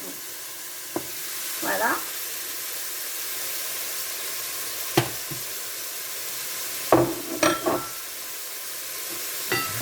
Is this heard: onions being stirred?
yes